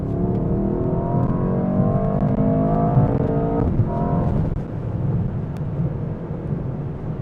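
A 2025 Mercedes S63 AMG with a V8 bi-turbo hybrid accelerates hard on the Autobahn, a loud, continuous engine roar heard from inside, rising and then easing slightly toward the end, with no talking.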